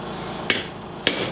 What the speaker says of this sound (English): now I'm just following my line that I made with the 1-inch chisel and cutting that